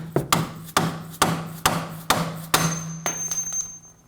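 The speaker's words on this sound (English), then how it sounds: "Now we can just bop the end of this bolt with a dead blow hammer," A dead blow hammer strikes the end of a bolt on a Ford Edge's camber alignment hardware: about eight sharp, evenly spaced blows at close range, each with a brief ringing decay, with no voices over them.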